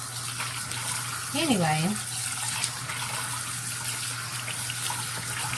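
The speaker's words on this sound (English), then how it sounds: "To wash my hands." Water runs from a tap during handwashing in a home kitchen, a steady close gushing rush that fills the whole clip, with a brief spoken word and a low electrical hum underneath.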